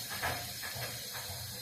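Mustard seeds and urad dal sputtering in hot oil, a steady close hiss with soft crackling pops throughout.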